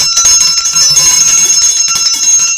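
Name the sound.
ringing a bell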